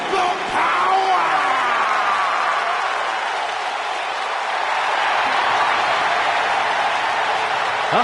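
Crowd applause and cheering from the arena audience in the WWE 2K19 wrestling video game, a steady, loud roar of clapping and yelling that holds throughout with little change in level.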